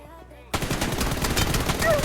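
Rapid automatic gunfire erupts in PUBG Mobile, likely from an Uzi, as a loud, dense burst of close shots that starts abruptly after a brief quiet moment and carries on to the end.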